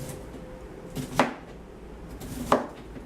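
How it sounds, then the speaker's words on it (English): A knife cuts through cabbage for homemade sauerkraut. Two crisp, separate chops land on a board, over a quiet room background. "We're going to cut up our cabbage."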